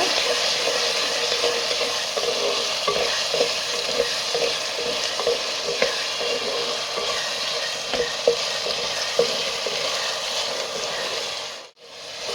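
Chopped tomatoes sautéing in a pan for a spicy brinjal tamarind curry, a loud continuous sizzle broken by repeated scraping and stirring strokes, which stop abruptly just before the end.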